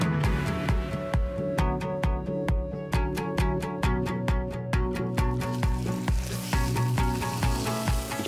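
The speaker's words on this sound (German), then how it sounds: "Ich brate die jetzt auch nacheinander an" Seasoned pork chops frying in a pan, a loud, steady close sizzle with a regular pulsing crackle running throughout, no voices.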